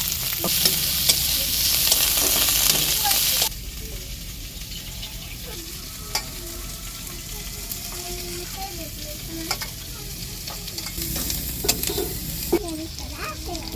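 Garlic and bay leaf tempering in hot oil gives a loud, broad sizzle at first, then settles into a steady softer frying hiss with occasional stirring scrapes and clicks.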